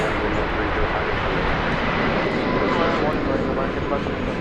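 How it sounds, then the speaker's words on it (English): An American Airlines jet airliner takes off at DFW Airport, its engines producing a loud, steady, broadband roar that fills the scene throughout. "American Flight 1953 is next to take off"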